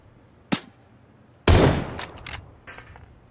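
Gunshots in a shooter video game: a single sharp shot, then a louder blast followed by a few quick shots and a final one, close and punchy with brief decaying tails.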